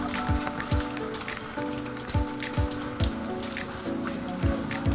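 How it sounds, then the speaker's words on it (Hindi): Heavy rain on Gurpa Hill in Gaya, Bihar, falls as a dense, constant hiss with scattered close drops and splashes, plus occasional soft thuds that sound like footsteps on a wet lane. "बारिश काफ़ी ज़्यादा हो रहा है"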